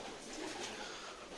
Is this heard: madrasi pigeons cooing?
yes